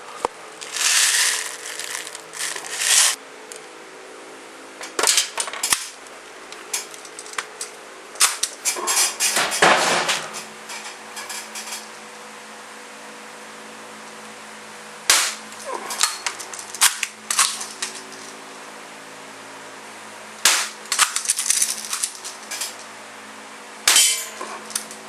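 A Marksman repeater air pistol fires a series of sharp, close snapping shots in irregular clusters, some misfires among them, with quiet handling noise between bursts.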